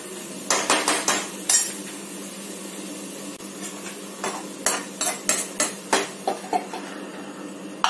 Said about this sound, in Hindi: अब मैं गैस को स्लो कर रही हूँ और इसको मैं सिम पे ढक के रख देती हूँ